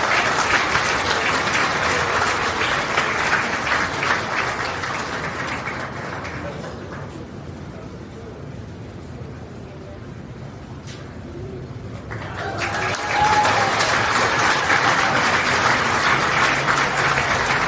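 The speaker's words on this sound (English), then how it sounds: "please show these kids how proud of them you are with one more nice round of applause" A crowd at a county fair beef show applauds loudly, fades to a quieter lull in the middle, then swells back into strong clapping near the end.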